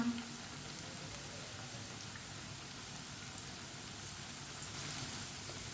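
Steady, soft sizzle of chili pakoras frying in hot oil, a continuous crackling hiss without talk, fairly quiet and even throughout.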